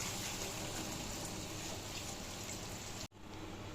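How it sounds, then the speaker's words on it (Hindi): Water pours steadily into a cooking pot for chicken yakhni pulao, a continuous close splashing gush that runs for about three seconds before stopping abruptly. "ये पानी हम डालेंगे।"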